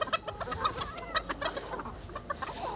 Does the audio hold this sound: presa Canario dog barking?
no